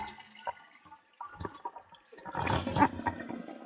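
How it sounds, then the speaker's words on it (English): A household toilet is flushed just after its fill valve has been replaced: faint drips and small water sounds give way to a louder rushing flush and gurgle in a quiet room. "Now let's just give it a flush."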